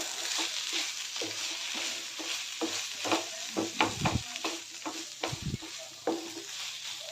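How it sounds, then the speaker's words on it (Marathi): A spoon stirs and mixes potato bhaji in a pan with lemon and sugar, giving soft scraping and clinking strokes over a steady background sizzle, fairly quiet and close. "यामध्ये सर्व मिक्स करून घेऊया व्यवस्थित"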